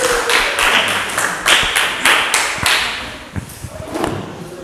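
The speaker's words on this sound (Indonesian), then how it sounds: "Beri tepuk tangan untuk kelompok 3." A classroom of students applauds a student group with a burst of loud, rhythmic clapping and thumps that thins out toward the end.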